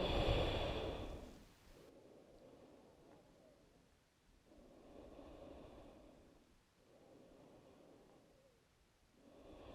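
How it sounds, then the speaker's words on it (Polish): Slow, deep breaths during a yoga session, taken lying face down with hands under the forehead; about three long, soft inhale-exhale cycles rise and fall steadily, close and quiet, with no talking. "I trzy duże oddechy tutaj."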